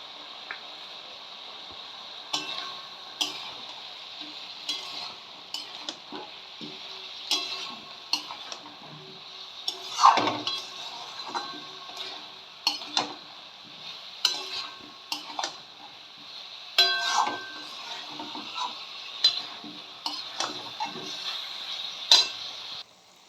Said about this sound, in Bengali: চিংড়ি মাছটা দিয়ে দিচ্ছি।